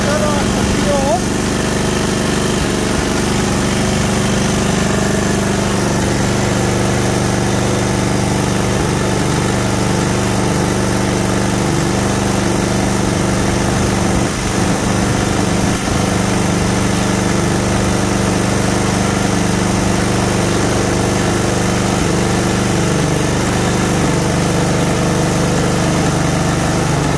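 A small snowblower engine idles steadily nearby with a constant rough drone and vibration, with no breaks or changes in pitch throughout.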